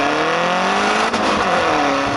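Peugeot 308 GTi engine revving on the road, a steady loud droning pull that holds and climbs slightly in pitch, heard alone without talk.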